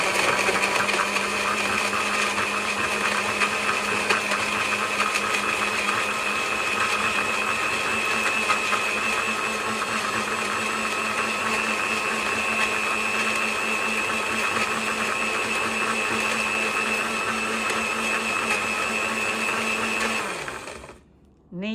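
An electric kitchen blender grinds a chili paste blend for Northern Thai chicken curry with glass noodles, running as a steady loud whir for about twenty seconds before winding down and stopping near the end.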